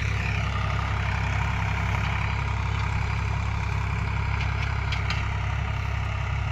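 Swaraj 744 XT tractor pulls a 9 ton cultivator at full depth through a field, its engine a steady, continuous low rumble, close and unbroken throughout with no voices.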